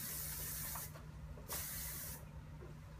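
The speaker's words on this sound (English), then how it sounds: "after I put all the spray on" Two bursts of hairspray hiss close by during a haircut, each lasting under a second, separated by a short pause, with a faint steady hum underneath.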